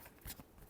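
Tarot cards give one brief, soft riffle and slap of a shuffle, quiet and close, with no voice over it.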